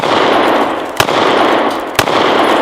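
Ruger GP100 revolver firing .44 Special rounds outdoors, two loud sharp shots about a second apart over a heavy continuous background roar.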